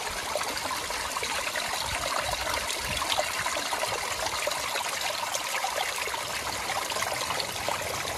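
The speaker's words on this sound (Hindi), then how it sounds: "देखिए मैं पानी भरता हूँ यहाँ से, कितना बढ़िया जुगाड़ बना है उन लोगों ने।" Water trickles steadily from a village-made pipe at a mountain spring in Odisha's Deomali hills as a container fills, a continuous close splashing hiss with no voices.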